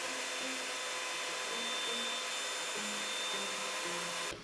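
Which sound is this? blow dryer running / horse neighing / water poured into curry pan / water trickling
blow dryer running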